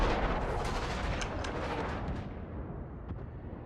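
Battleship shells firing and impacting in the naval combat game World of Warships, heavy booming salvos rolling into a long decaying rumble with a few sharp later cracks, loud and without talk.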